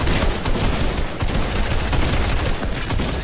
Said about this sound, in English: Got him with my shotgun again.